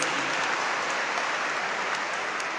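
Dense applause from a crowd, steady and sustained throughout with no voices over it.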